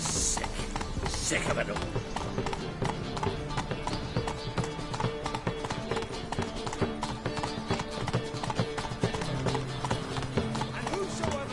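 Roach, a horse in a video game, trots with a steady, rapid clip-clop of hooves, heard throughout under dense music and a voice.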